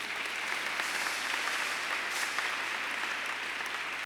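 Steady applause from a church congregation during a Catholic Mass, a dense, even patter of many hands sustained for about four seconds at moderate distance with no voices over it.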